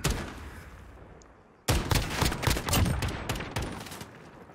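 Rapid gunfire bursts in Call of Duty: Modern Warfare during a 2v2 Gunfight match; loud, dense rattling volleys start abruptly after a quieter stretch of background noise and keep going.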